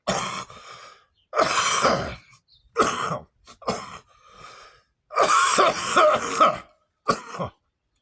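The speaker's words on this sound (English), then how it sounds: "Except when I got smoker cough and phlegm." Harsh, phlegmy smoker's coughing fits come close and loud, broken by pauses and throat clearing, the longest burst rattling for over a second.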